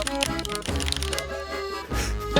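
A Leopold mechanical keyboard with red switches is being typed on, a steady run of clicky keystrokes close up.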